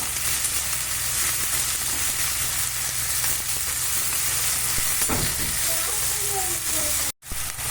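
Chopped onions frying in a pan as rice-flour upma is made, with a steady broadband sizzle and occasional scraping stirs, close and continuous, and a brief cut near the end.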